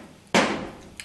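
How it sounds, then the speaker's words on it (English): A hammer strikes a seal driver fitted over the shift shaft of a TH350/TH400 transmission, giving one sharp metallic tap that decays quickly, followed by a faint lighter knock. "slip over the shaft and then tap on it with a hammer or whatever you can get in there to seat the seal"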